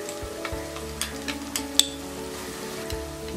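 Red chili powder, turmeric and other spices frying with tomatoes for a whole green moong dal curry, a steady sizzle in the pan with light stirring taps and one sharp clink, backed by a low ongoing hum.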